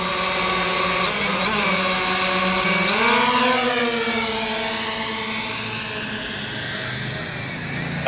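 Reassembled drone motors and propellers spin up with a loud, steady, high-pitched buzzing whine. The pitch climbs partway through, then holds as a close, continuous drone with no talking.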